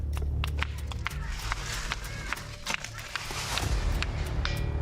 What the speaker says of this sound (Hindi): ये सामान्य पत्थर की आवाज है